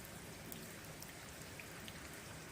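Steady, faint patter of rain falling on a rooftop, heard from indoors as a continuous soft hiss with scattered drop taps and no other sounds.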